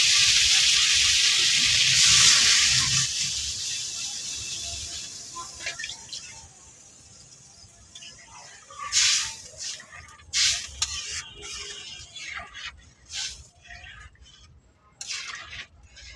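Water poured into a pan of sizzling taro (mukhi) set off a loud hissing burst that fades over several seconds, followed by quieter bubbling and scattered clinks of a spoon against the pan.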